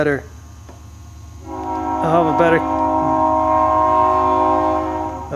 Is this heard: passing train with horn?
yes